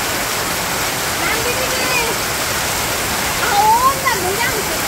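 Steady rain falls in rural Bangladesh as a continuous, close, broadband wash, with faint voice-like sounds just audible beneath it and a brief swell near the end.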